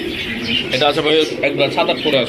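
A pair of Bombay pigeons coo at a pigeon seller's stall, soft throaty calls close by, partly mixed under someone talking.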